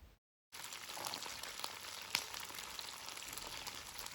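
Chicken pieces with diced green, red and yellow bell peppers sizzle steadily in a pot for teriyaki chicken, a continuous close frying hiss after a brief silent start, with a faint clink of stirring midway.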